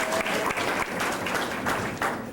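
Applause fills a hall at a graduation ceremony, a sustained wash of many hands clapping at moderate loudness with no speech over it.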